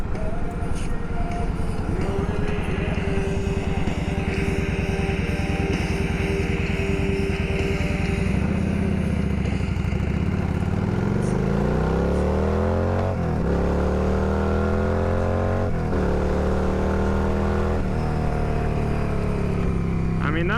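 A Yamaha V-Star 1100 motorcycle, a big heavy cruiser, idles and then accelerates hard from a stop sign with rising engine pitch through gear shifts, recorded close from the rider's helmet with steady wind noise.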